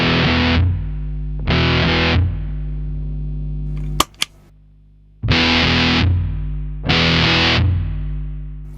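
An electric guitar through a Big Muff distortion pedal with no MXR Smart Gate plays four loud fuzzy chord bursts, and a steady low electrical hum stays audible between them, broken by a brief click and a short near-silent gap.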